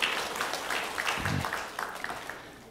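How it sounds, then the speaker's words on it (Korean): Brief round of applause from a church congregation during a Korean worship service, scattered claps under a murmur of voices, fading after a couple of seconds. "박수 올려드리겠습니다."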